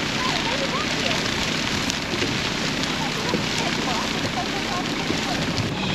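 A controlled burn in a paddock crackles and roars with fire as a steady, dense, loud rush of noise that lasts throughout, with wind buffeting mixed in.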